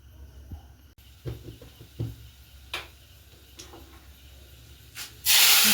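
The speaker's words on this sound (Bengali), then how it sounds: "ফোড়নের মধ্যে দিয়েছে সরষা তেলের মধ্যে শুকনো মরিচ, তেজপাতা, আদা এবং পাঁচফোড়ন দিয়ে ফোড়ন দেওয়া হয়েছে।" Dried chili, bay leaf, ginger and panch phoron hit hot mustard oil for tempering, and a sudden loud, close sizzle bursts out at the end after a few quiet ticks and clinks.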